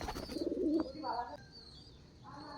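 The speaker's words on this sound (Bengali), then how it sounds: "আর এই যে কবুতর, কবুতর কিন্তু খাবার খাচ্ছে।" Pigeons feeding at a home in the countryside give soft, low cooing calls, close but quiet, with a person speaking over them.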